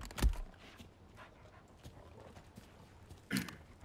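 Dogs in the video game Resident Evil 4 Remake make two short, sharp bursts, one near the start and one near the end, with quiet game ambience between them.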